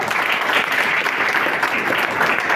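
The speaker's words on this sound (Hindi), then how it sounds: "तालियां चाहूंगा" Applause from a seated audience at a business motivational talk, continuous dense clapping at close range that holds evenly throughout.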